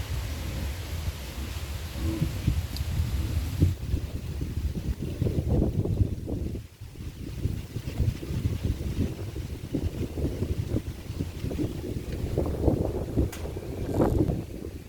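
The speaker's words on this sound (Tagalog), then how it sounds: "Lakas ng hangin dito." Strong wind blows across open farmland where cattle are kept, buffeting the microphone in loud, rough gusts that surge and dip over the whole stretch.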